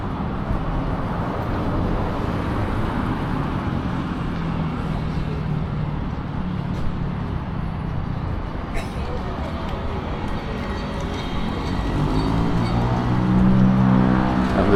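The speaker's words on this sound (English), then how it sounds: "And the traffic is calm here on a Sunday." Calm Sunday road traffic near the Mall of Asia condos, a steady roar of passing cars and engines that swells toward the end, with a person talking over it.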